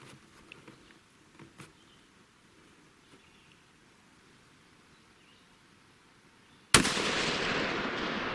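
A single loud 6.5 PRC rifle shot firing an ELD-X bullet from a Browning Max Long Range rifle, a sharp broadband crack followed by a sustained roaring echo after a long quiet stretch with faint outdoor sounds.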